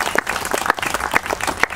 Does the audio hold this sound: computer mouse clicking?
no